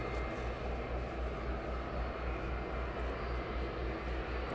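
A fixed-wing airliner taxis at East Midlands Airport with a steady, loud engine drone and low rumble, holding constant throughout without pauses and no voices.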